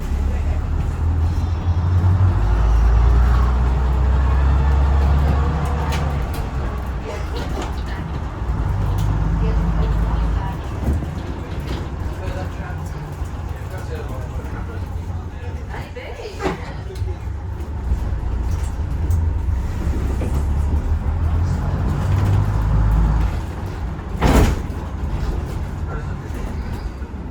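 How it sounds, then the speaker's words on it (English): A bus pulls away in Ipswich, its low engine rumble and road noise steady in the background and gradually fading, while someone talks throughout. "So I just jumped off the bus, you can hear it going in the background"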